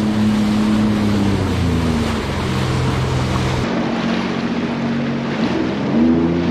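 Steady, loud rumble of a ship at full steam churning through water, bow cresting the waves, with constant low engine drone and rushing wash, plus wind buffeting the microphone throughout.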